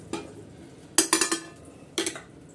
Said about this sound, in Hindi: डिश आउट कर रही हूँ।